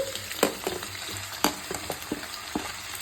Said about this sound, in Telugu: టమాటాలు వేసుకొని కొంచెం కలుపుకొని ఇవ్వండి